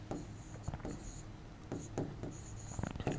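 Chalk or pen scratching on a board during a Hindi art-history class, in short strokes and taps through a continuous low hum, with someone talking faintly alongside.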